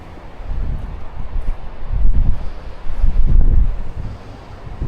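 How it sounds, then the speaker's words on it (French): Wind gusting outdoors among the ancient Roman ruins at Tipaza, Algeria, a steady low rumble on the microphone that swells in stronger gusts around the middle and end, with no talking. "Bon, un petit peu de vent."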